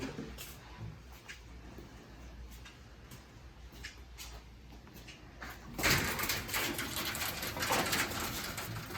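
An Australian wild bird coos while puffing up its chest, soft and fairly close, with a sudden louder rustling burst joining partway through.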